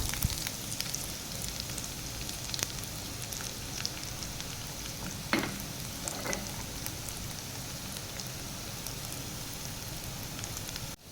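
Chicken fries in a pan with a soft, constant crackling sizzle, quiet and even throughout, with a couple of faint clinks partway through.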